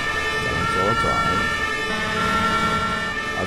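A toy fire truck plays a continuous electronic siren tone, steady and fairly loud throughout, with faint voices briefly underneath.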